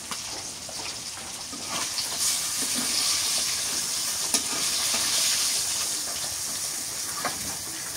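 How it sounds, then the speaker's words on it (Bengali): Fish fries in a pan in a village kitchen, a steady close sizzle and hiss with faint stirring scrapes and occasional crackles, no talking. "একদম লাল লাল করে ভাজছি।"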